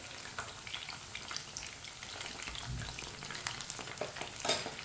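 Chicken frying in a pan, a dense, even crackle and sizzle with scattered pops and occasional stirring scrapes, close and continuous throughout.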